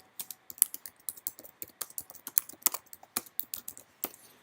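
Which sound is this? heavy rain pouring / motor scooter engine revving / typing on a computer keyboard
typing on a computer keyboard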